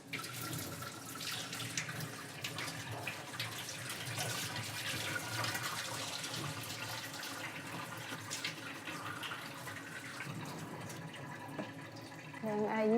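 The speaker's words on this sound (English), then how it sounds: "Then I use the garden hose to rinse them out." Water from a garden hose splashes and rinses over baby mussels in a steady outdoor gush, faint and continuous, with a few quiet voices underneath.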